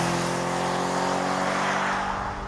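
An Audi RS4 Avant's naturally aspirated 4.2-litre V8, revving to 8,250 rpm, gives a steady, loud, close engine drone with a rich low rumble holding throughout, no voices present.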